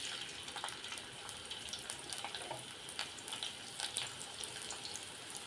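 Finely chopped onion sizzles in heated oil for a chawli usal, a soft, steady crackle with scattered light pops that stays low and even throughout.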